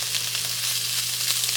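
Artichokes sizzle steadily in an omelet pan, a close, continuous frying hiss with faint crackles and no pauses.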